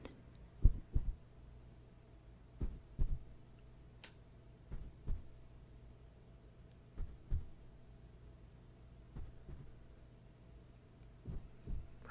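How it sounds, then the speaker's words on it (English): Slow thumping heartbeat in an ASMR roleplay, soft low double pulses repeating roughly every two seconds over a faint steady hum, close and quiet with no talking. "Take a quick listen for your heartbeat, okay?"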